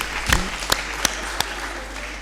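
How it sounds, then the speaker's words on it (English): Sparse applause at a women political leaders summit: a few distinct, separated hand claps over a low steady hum, with no crowd roar behind them. "Ladies, please, one huge applause for ourselves."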